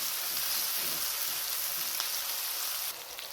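Chopped tomato, green chili and capsicum fry in a pan with a continuous, even sizzle, close and fairly loud, easing slightly toward the end.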